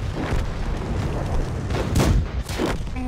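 Mark 1 tank gun firing in a World of Tanks battle, two loud booming shots about half a second apart amid continuous game rumble.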